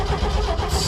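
A 1968 Chevy C10 pickup engine cranking and sputtering as it tries to start with the choke on, a loud, close, uneven rumbling churn filling the whole second.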